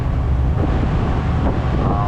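Rough sea aboard the Fastcat M17 ferry crossing from Allen, Samar to Matnog: a loud, steady rumbling wash of waves and wind noise fills the whole stretch without pause.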